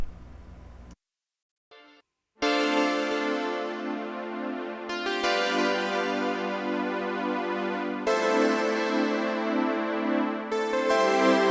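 Sustained synth chords shift every few seconds while a bright Moog Muse lead line moves above them, steady and moderately loud after a brief gap near the start.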